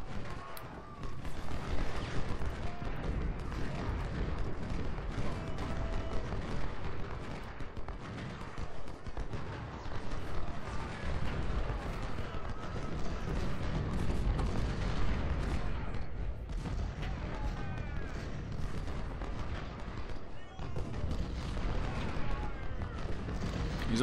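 Artillery fire in the Ultimate General: Civil War video game, a continuous, mid-distance rumble of booms and musketry-like crackle lasting throughout, with occasional voices mixed in.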